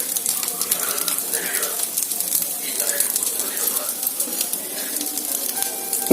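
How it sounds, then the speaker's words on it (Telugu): Onions frying in a pan with green chillies nearby, giving a steady, close crackling sizzle with light stirring scrapes, while someone talks over it. "ఇప్పుడు ఉల్లిపాయలు అయితే వేసేసుకుందామండి"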